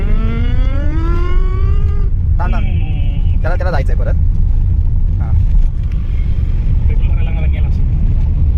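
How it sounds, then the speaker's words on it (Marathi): A Royal Enfield Bullet motorcycle engine runs with a steady low rumble throughout, while people talk over it close by. "आता आमचं बुलेट चालू होणार आहे"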